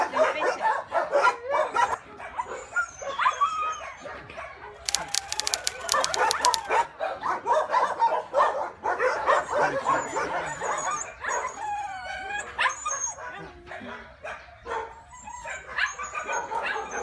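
Several dogs packed into a transport truck bark, yip and whimper loudly and almost without pause, with a brief metallic rattle partway through and faint voices in the background.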